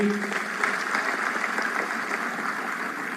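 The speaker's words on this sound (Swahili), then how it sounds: "Tuwapigie makofi jameni" Crowd applause for guests being welcomed at a national Jamhuri Day celebration in Nyayo National Stadium, Nairobi. The clapping is broad and steady and fills the whole clip, with faint voices mixed in.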